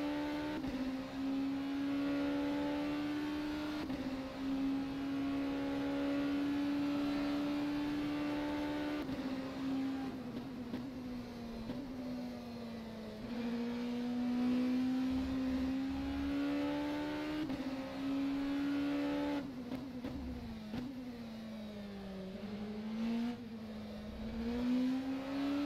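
An LMP2 race car in rFactor 2 with a steady, fairly quiet engine whine rising and falling as gears shift and speed changes, on and on with no talk.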